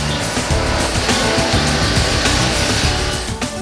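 An industrial machine grinds wood into material for natural wallpaper, making a loud, continuous, dense roar with rumbling, rattling texture throughout.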